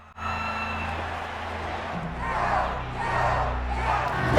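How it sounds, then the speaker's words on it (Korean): An arena crowd roars and cheers for a gladiator, a dense, swelling wall of shouting voices that builds louder toward the end, with a low rumble underneath. "관중들은 불평등한 시합을 극복한 남성을 응원합니다"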